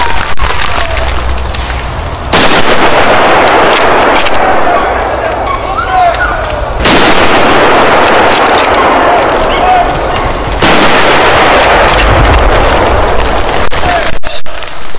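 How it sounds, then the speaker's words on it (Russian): Rifle shots ring out during a wild boar hunt, three sharp loud broadband blasts spaced several seconds apart against outdoor background noise. "Три выстрела и два попадания."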